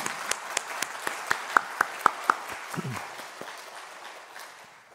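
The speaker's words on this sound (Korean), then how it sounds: "우리 그 하나님께 같이 영광의 박수를 올려드리겠습니다" A church congregation claps together in a steady rhythm of sharp, evenly spaced beats, then the clapping thins and fades into a soft hall ambience.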